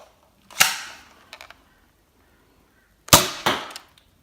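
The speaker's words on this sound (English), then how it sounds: "Okay, we've just completed our test fire." A toy foam blaster is test fired outdoors: two separate sharp pops, each followed by a short rattling burst, about two and a half seconds apart and loud against quiet surroundings.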